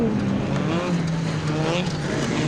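Rallycross race cars in a BTRDA Clubman's Rallycross round at Pembrey, their engines droning loud and continuous with rising and falling pitch as they race, a commentator talking over the noise.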